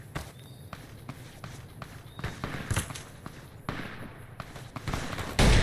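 Gunfire in the video game Fallout: New Vegas: scattered sharp bangs at uneven intervals, some near and some farther off, over quiet background noise, with a louder burst at the end.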